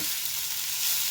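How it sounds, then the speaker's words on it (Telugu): Chopped capsicum frying in a pan, a dense steady sizzle with the faint scrape of stirring, close and continuous, no voices. "ఇలా క్యాప్సికమ్ వేసుకొని చక్కగా అంతా కలిసేలాగా"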